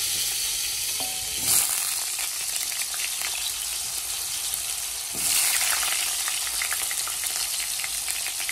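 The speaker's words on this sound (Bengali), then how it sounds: "আলুটা ভালো করে ভাজা ভাজা হয়ে" Potatoes sizzle and fry in a pan for a vegetarian dish tempered with three whole spices, a steady close crackle with a couple of louder stirring surges and no talking.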